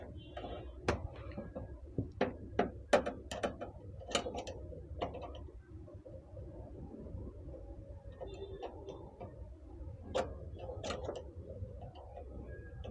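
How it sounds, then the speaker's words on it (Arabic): Screws are tightened on a monitor mount, with irregular metallic clicks and ratcheting ticks scattered over a low background hum, close and fairly quiet. "مجرد ما انا اربط المسمار ده انا حكمت الشاشة بتاعتي"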